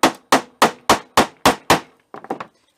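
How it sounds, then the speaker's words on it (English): A socket is pounded with a hammer to punch a hole in engine gasket material on a hard surface: seven sharp, evenly spaced metallic strikes, then a few quicker, softer taps at the end, loud and close with no talking. "You just put the socket on there and you're able just to pound out a hole."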